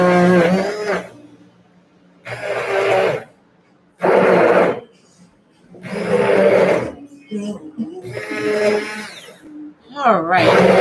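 A blender breaks up and mixes an unmelted soap base in a home kitchen, whirring in loud bursts of a few seconds separated by pauses.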